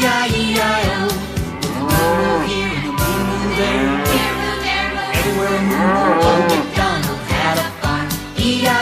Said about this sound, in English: And on his farm he had a cow, E-I-E-I-O.